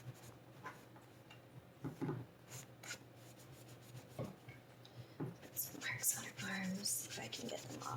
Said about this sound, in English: Normally paint like this, craft paint, will come off pretty easily with just a good scrub from the magic eraser.